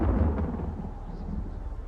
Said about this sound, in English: forming a thunderstorm